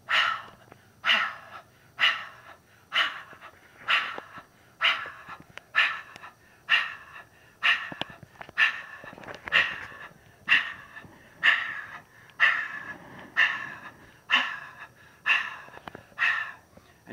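A person does a dynamic breathing exercise, pushing out rapid forceful breaths in a steady, even rhythm of roughly one per second, about seventeen sharp huffs in a row, close and loud with no talking.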